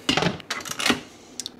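A lid clatters onto a metal pressure cooker pot in a home kitchen, a short burst of close clinks and scraping followed by a faint tap, with no talking.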